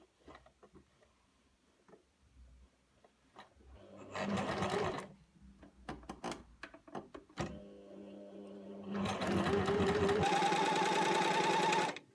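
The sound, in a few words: sewing machine stitching a seam on a tunic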